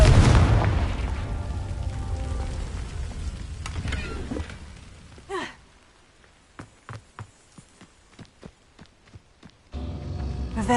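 A Confringo fire spell bursts in Hogwarts Legacy with a heavy booming blast that fades into a short whoosh, then a string of small pops and crackles, before game ambience swells back in.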